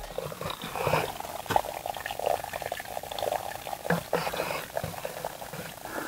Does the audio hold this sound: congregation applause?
no